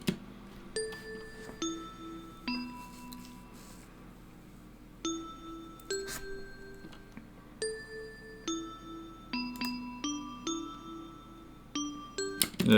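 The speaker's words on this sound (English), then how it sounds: "Now I have a bell." Bright handbell strikes ring out in an FL Studio plugg beat, struck singly and in quick clusters with short decaying tones over a soft low backing, clear and close without any voice.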